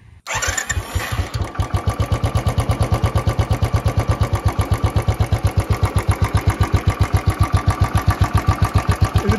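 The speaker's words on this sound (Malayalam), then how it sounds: "ഒറിജിനൽ സൈലൻസറിൻ്റെ സൗണ്ട് ആണെങ്കിലും ഒരു പക്ക ഒരു റോയൽ എൻഫീൽഡിൻ്റെ ആ ഒരു സൗണ്ട്" A Royal Enfield Classic 350 BS3 fires up and settles into a steady, loud, close thumping idle through its original silencer, each beat evenly spaced.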